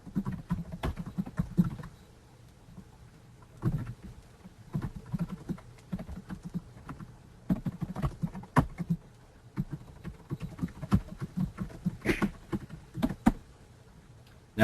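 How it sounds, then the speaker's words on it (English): Quick, uneven keystrokes on a computer keyboard as git commands are entered, bursts of clicks with short pauses between them, close and alone with no voices. "Now I can type git log,"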